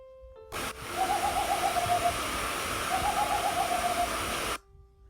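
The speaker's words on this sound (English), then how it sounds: "Snow owl. I hoot, and this is what I sound like." Two short runs of soft snowy owl hoots over a steady hiss of background noise, the calls evenly paced and moderately faint.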